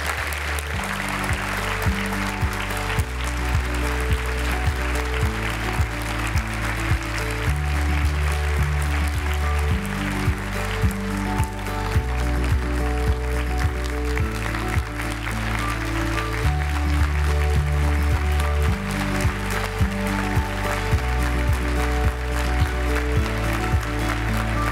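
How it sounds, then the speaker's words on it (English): Applause from an audience at an agriculture dialogue event rolls on steadily over a looping musical backing, the clapping dense and even for the whole stretch, with no speech on top. "Please give them a warm round of applause as they come on stage."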